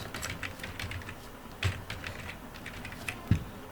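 Soft, steady typing on a computer keyboard, a run of light key clicks with a couple of louder taps, no talking.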